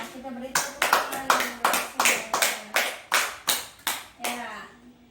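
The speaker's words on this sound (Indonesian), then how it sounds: "Ya, kita beri tepuk tangan" Children in a classroom clap hands together in unison, about a dozen sharp, evenly spaced claps in a steady rhythm, close and clear, with faint voices underneath before the claps trail off.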